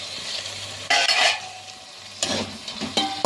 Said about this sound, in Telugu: ఇది వేసిన తర్వాత చక్కగా కలుపుకుందాము